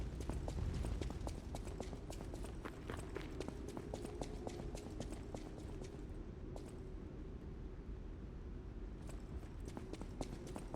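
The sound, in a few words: footsteps in the video game Lies of P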